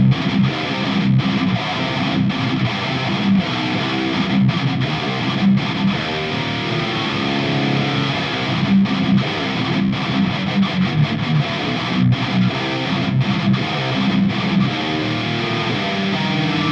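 Heavily distorted metal guitar run through a Studio One Metal Machine amp simulation styled after a 5150/6505, playing dense palm-muted riffs with choppy stops, loud and continuous with no talking.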